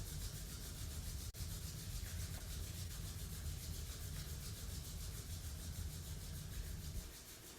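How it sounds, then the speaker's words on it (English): Palms rubbing together, a close, steady swishing friction that continues evenly, with a brief sharp tap early on before the rubbing eases near the end. "Let's rub our palms together"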